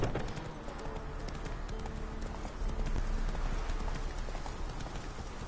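Roach, a horse in The Witcher 3 video game, trotting with a steady clip-clop of hooves that runs continuously and fairly close throughout.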